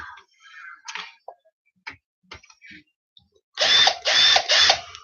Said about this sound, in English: generally drill onto the table and not up like that